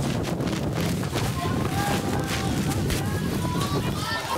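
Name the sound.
tornado whirlwind winds striking houses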